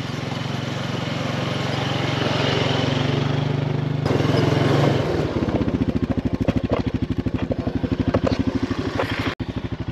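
A four-wheeler engine runs in an almond orchard, a loud steady drone that shifts midway into a rapid, pulsing chug with rattling clatter, close by and continuous.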